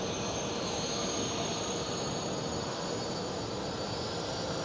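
KLM Boeing 787-10 jet airliner with new livery rolling at Amsterdam Schiphol, a steady broadband jet engine roar with a high whine, constant and fairly distant, no voices.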